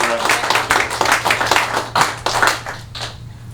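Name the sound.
audience round of applause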